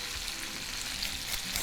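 Shrimp sizzle in a hot pan, a dense, steady frying hiss with faint stirring, close and without talk.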